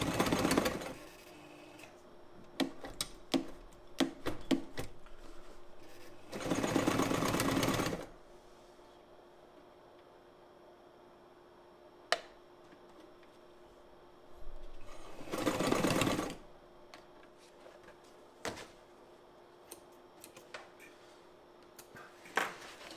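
A Frister & Rossmann 35 sewing machine, modified for heavy-duty work, stitches through thick material in two loud, steady bursts of a few seconds each, separated by quiet stretches with faint clicks and handling noises.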